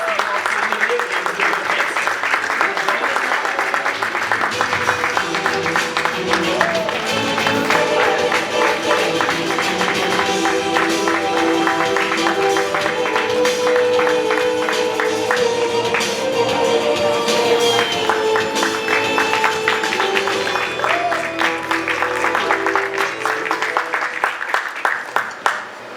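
A studio audience applauds to welcome a guest onto the stage of a business pitch show. Continuous clapping runs under upbeat music for the whole stretch and thins slightly at the very end.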